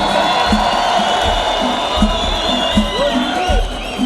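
Audience at a Moroccan chaabi concert night cheering and shouting steadily, with a thumping music beat and whistles running underneath the crowd noise.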